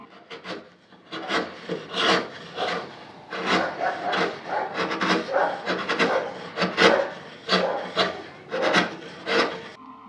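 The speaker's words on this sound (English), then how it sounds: "Here I'm using a chisel to flatten the saw marks that's left over." A hand chisel pares saw marks flat on a wooden bench foot, giving a steady run of close, dry scraping and rasping strokes in a rough rhythm, with no talking.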